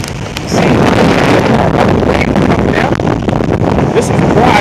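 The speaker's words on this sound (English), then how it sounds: "I want to show my friends how hard the wind's blowing." Strong wind roars across open water during a paddling trip, a loud steady buffeting rush hitting the microphone, with faint splashes and a voice in the background.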